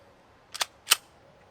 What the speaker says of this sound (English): this time we're going to load it rack in the slide